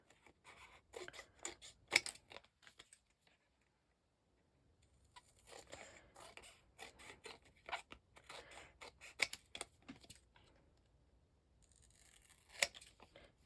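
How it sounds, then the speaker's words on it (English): Scissors snip close by in quick clusters of crisp cuts around a laminated bookmark, pausing briefly before more trimming resumes, with faint rustling of the stiff laminated sheet. "Now, I will run my scissors around, get the excess off."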